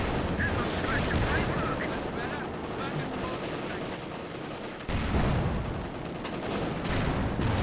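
Tank cannon and gunfire from a Company of Heroes 2 battle with Panzer IV tanks, a dense, steady roar of shots and blasts that stays loud throughout, with a brief dip before a renewed burst.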